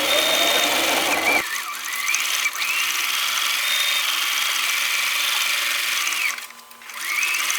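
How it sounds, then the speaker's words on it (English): Sewing machine stitching a simple tote bag with a flat bottom, a steady close whirring hum running continuously with brief pauses and restarts. "Okay, we're ready to sew again."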